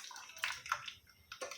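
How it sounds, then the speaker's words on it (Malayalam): Water poured into raw mango juice in a kitchen, heard as a few short, faint splashing bursts with brief pauses between them and no talking. "ഇനി കുറച്ച് വെള്ളം കൂടി ആഡ് ചെയ്യട്ടെ"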